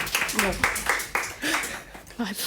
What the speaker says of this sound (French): On accorde un demi-point, on les applaudit, mais pas très fort.